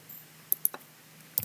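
A few sharp key clicks tapped out sparsely, close and fairly quiet, with short pauses between small bursts.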